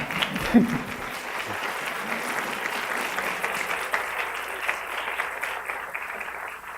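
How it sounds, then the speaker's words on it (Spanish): Audience applause at a book presentation in Nuevo León, steady clapping from a seated crowd lasting several seconds at moderate level, with a brief voice at the start. "Dale un aplauso."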